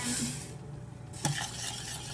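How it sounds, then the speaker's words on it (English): Minute rice being stirred into boiling beef bouillon in a kitchen pot, a soft continuous scraping swirl over bubbling water with a brief knock of the spoon against the pot partway through, alone without talk. "Give it a stir, cover it, take it off the heat"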